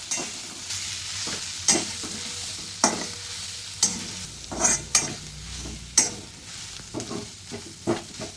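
Traditional Khandeshi green chilli thecha fries in oil, a steady sizzle broken by repeated sharp scraping stir strokes about once a second, close and loud.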